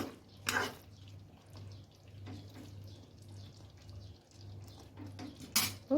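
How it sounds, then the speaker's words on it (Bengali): A spoon stirs ghee into raw banana cheese kofta curry in a pan, with a few sharp metallic clinks and scrapes over a low steady hum, fairly quiet. "আর দেব আমি এক চামচের মতন ঘি ঘিটা দিয়ে একটু নেড়ে দেব"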